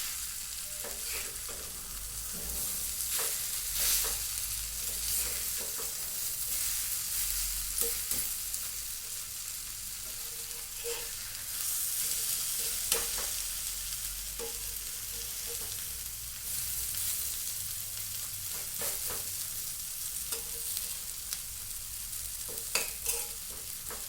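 Pigeon pea chutney frying in oil in a pan, flipped to cook the other side, with a steady crackling sizzle throughout and occasional light scrapes of a spatula, no voices.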